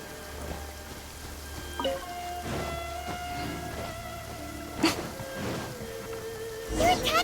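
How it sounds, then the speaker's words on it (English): Rain falls steadily in the Genshin Impact video game, a soft continuous patter beneath tonal game sounds and music, with several sharper bursts and a louder swell near the end. "If this rain keeps up,"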